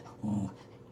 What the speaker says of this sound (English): Samoyed nearby, because I recognize his bark sound from hearing Sif so much